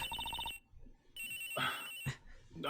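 Cell phone ringtone from the video game Ace Attorney Investigations, a repeating electronic ring in two short bursts with a pause between, fairly clear with brief sounds after the second burst.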